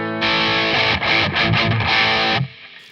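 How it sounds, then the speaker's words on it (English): Electric guitar through a Behringer tube amp modeler set to a Marshall sound, a thick, heavily distorted chord ringing out, briefly choked and restruck in a short chugging rhythm, then cut off, loud and close with a slight hiss. "So I've set the tube amp modeler to the Marshall sound."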